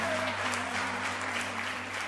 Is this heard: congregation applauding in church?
yes